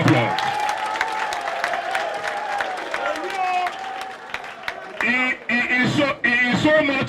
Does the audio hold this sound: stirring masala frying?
no